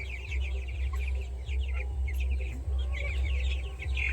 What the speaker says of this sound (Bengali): এই যে দেখুন আমার ডিমের মুরগিগুলো, এই যে এখানে এরা রয়েছে